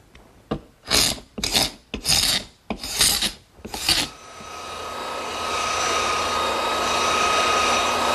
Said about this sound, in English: the first thing I'm going to do is scrape off any excess glue